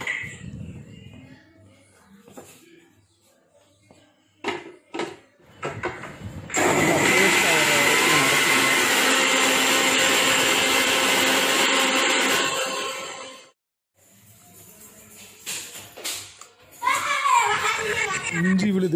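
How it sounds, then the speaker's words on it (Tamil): A kitchen mixer grinder whirs loudly for about seven seconds, grinding garlic, ginger and onion into paste, then cuts off abruptly; before and after, children and adults talk nearby, and a short burst of the motor returns at the end. "அடுத்ததாக அந்த பூண்டு, இஞ்சி, வெங்காயம் இதெல்லாம் போட்டு மிக்சியில் போட்டு அரைச்சிருங்க"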